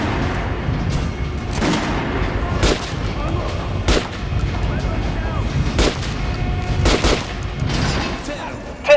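Single gunshots ring out at a training dummy on a Metro: Last Light Redux firing range, several sharp, loud reports spaced a second or two apart with short echoing tails.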